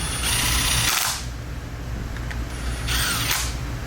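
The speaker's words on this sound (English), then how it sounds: "you just want to go to where your impact just makes that first click" Impact driver tightening cover screws on a 2024 Polaris clutch, two short loud whirring bursts about two seconds apart, each ending abruptly over steady background noise.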